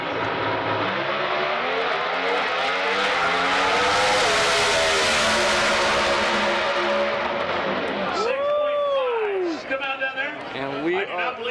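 NHRA pro stock drag race cars accelerate in a loud, close roar with engine tones climbing through gear changes, then a sharp high-pitched sweep as the cars pass and fade, with the crowd's noise beneath.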